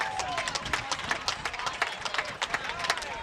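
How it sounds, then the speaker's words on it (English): Fans on the west side at a high school football game between Wausau East and Wausau West clap in a dense, rapid patter at a moderate distance, with faint crowd murmur underneath. "Well, you can hear the clapping."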